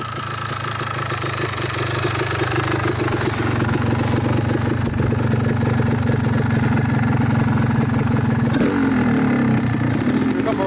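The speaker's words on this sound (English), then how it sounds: "Let it idle. I want to show them how quiet the motor is." A 1989 Honda CR250R motorcycle idles steadily up close, a constant mid-pitched engine drone with a faint blip near the end, while voices talk over it.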